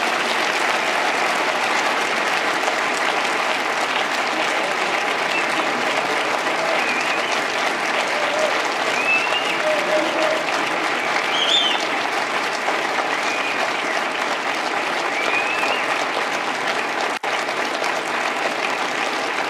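Sustained audience applause at Davos welcoming US Vice President Joe Biden, a steady dense clapping from a large hall crowd that continues evenly throughout.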